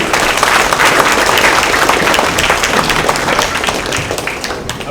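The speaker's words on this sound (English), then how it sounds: "Let's give them a big round of applause." Loud, dense audience applause at a Chinese festival, many hands clapping close and continuously, with a slight fade toward the end.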